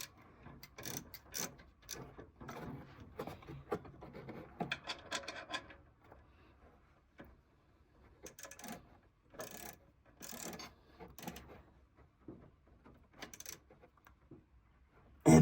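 A ratchet tightening a bolt while an alternator belt is installed on a car engine: bursts of rapid clicking strokes with short pauses, close up and moderately loud, with no speech.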